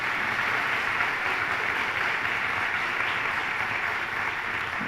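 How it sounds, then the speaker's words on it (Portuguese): Steady audience applause at a family-themed talk, many hands clapping evenly and fairly loud for the whole stretch, with no talk over it. "Vamos dar uma salva de palmas para ela?"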